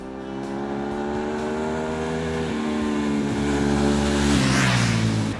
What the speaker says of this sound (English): Flat out riding on a good bike.